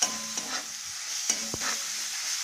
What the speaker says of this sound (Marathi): आता 1 टोमॅटो टाकून घेऊ आणि मिक्स करून घेऊ। कोथिंबीर टाकून घेऊ आणि परतून घेऊ।